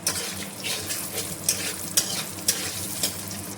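Peanuts and cumin powder frying in a pan give a steady close sizzle, broken by four or five sharp scraping clicks of stirring spaced about half a second apart.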